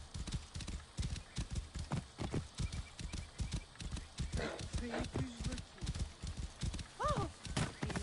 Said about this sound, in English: It's a nice horse.